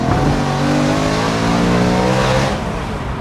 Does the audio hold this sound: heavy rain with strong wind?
no